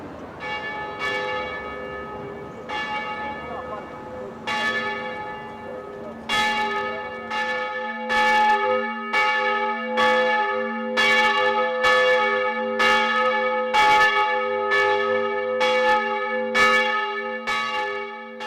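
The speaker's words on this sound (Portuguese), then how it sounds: "o sino de uma igreja." A church bell tolls in a steady series of strong, ringing strikes with long overlapping decay. It rings loud and alone, with no voices.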